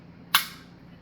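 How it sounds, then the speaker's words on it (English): Unloaded CZ P07 pistol, a single crisp double-action trigger click with a hammer snap, close and sharp, followed by quiet. "double action pull, which is a pretty strong pull, which I like for a concealed carry pistol"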